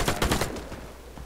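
Warface gunfire, a quick burst of several rapid shots up close, then fading into quiet game ambience.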